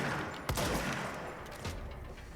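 Sniper gunfire in the video game Control: a single sharp shot cracks out, followed by a second quieter report over a dense background of game noise.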